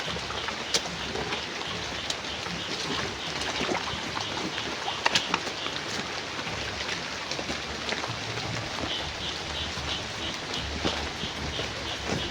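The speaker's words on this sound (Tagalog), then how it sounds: "ulan po sa ngayon tol" Steady rain on the way to Mount Pajang, a continuous, even hiss of falling drops with scattered sharper splashes close by, and no voices.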